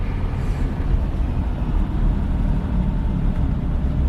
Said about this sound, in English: Very smooth gear change